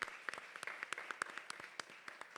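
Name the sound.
audience applause for José López Favelo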